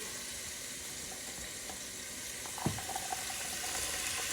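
Steady faint sizzle of a pan frying on the stove for drunken noodles as chopped onions go in, with a brief clatter partway through and soft stirring noises over the continuous hiss.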